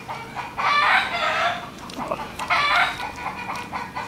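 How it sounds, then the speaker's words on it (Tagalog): Chickens cluck close by next to a kitchen where fish curry with turmeric is being cooked, with loud rough bursts of rooster-like calls rising and falling over a constant noisy background. "pasensya muna kayo sa ingay ng mga manok"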